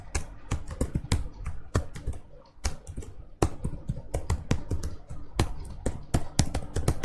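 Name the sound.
typing words on a computer keyboard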